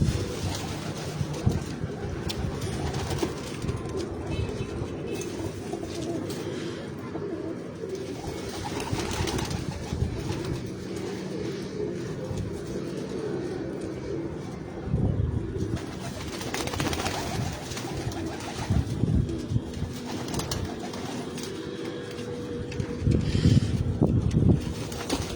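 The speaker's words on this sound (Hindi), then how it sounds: "एक से बढ़कर एक नायाब कबूतर है इस वक्त" Sialkoti pigeons coo continuously on a rooftop in Sialkot, a soft layered chorus of repeated low coos with occasional wing flutters and a light breezy background.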